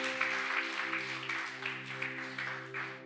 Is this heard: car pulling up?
no